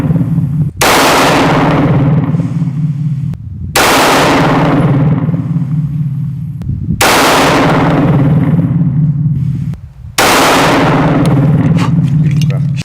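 A Staccato 2011 pistol fires 9x19 Blazer 115-grain rounds: four very loud, close blasts, each followed by a long, heavy ringing decay, spaced about three seconds apart.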